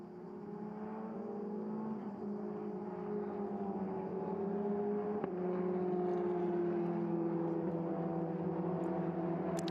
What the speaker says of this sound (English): cars going round on our formation lap